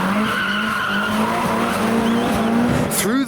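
Drift car tires skid and squeal continuously at a Japanese car show, with a loud, sustained screech over engine roar, close by.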